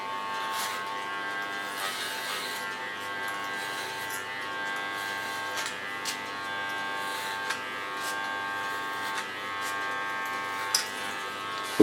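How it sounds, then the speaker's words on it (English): An electric hair clipper buzzes steadily while cutting a woman's hair during a salon haircut, a constant close hum with small clicks and bumps as the blade combs through. "Use my clipper as a comb"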